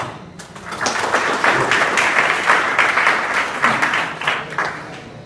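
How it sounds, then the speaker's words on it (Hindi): Schoolchildren in a classroom at a school in Azamgarh, Uttar Pradesh, break into loud applause, a dense burst of many small hands clapping that swells quickly and holds steady before tapering slightly. "मोहम्मद बता के एक जोरदार ताली।"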